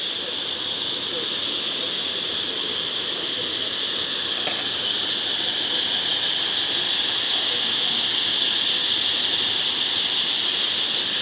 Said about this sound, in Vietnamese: Mọi người có thể nghe thấy tiếng ve kêu tự nhiên đấy.